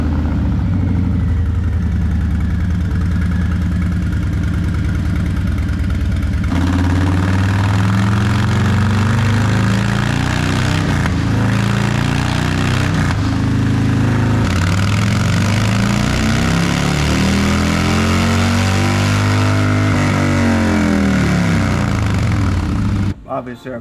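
A Harley Low Rider S motorcycle with a stage 1 117 engine revs on a dyno, its loud rumbling engine climbing and falling through gears over about twenty seconds, with a voice talking partway through.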